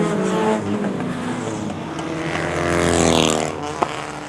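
Pure stock four-cylinder race cars roar off the green flag to start a short-track qualifying heat, engines loud and close, revving and swelling as the pack passes, with a sharp bang near the end.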